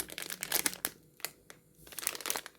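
A transparent plastic bag of candies crinkles in bursts as it is handled up close, with sharp rustling crackles, a quieter gap in the middle, then more crumpling.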